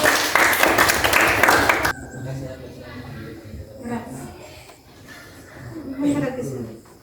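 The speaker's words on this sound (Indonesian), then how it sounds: "Tepuk tangan dulu." An audience in a classroom breaks into dense applause for about two seconds, the clapping cutting off abruptly before voices talk at close range.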